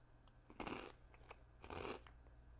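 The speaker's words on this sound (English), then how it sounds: "Let's give it a crunch." Takis Cobra rolled tortilla chips, heavily coated and brick-colored, crunch loudly in two distinct close-up bites about a second apart, with no talking.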